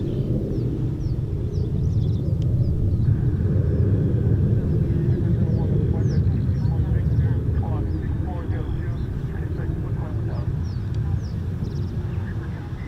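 F-35 jet fighters performing a quick climb at an RAF airshow make a loud, sustained, rumbling roar that fades slightly toward the end, with faint voices of onlookers beneath.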